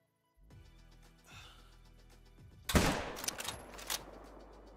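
A single loud, sharp gunshot from a hunting rifle cracks out near the middle and echoes briefly, preceded by quiet outdoor rustling and breathing.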